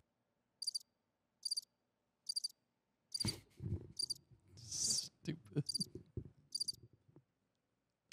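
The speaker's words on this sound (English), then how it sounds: "I heard one cricket. I heard a cricket." A cricket chirping sound effect plays as short, evenly spaced bursts, clean against silence, then keeps sounding under a brief stretch of talking.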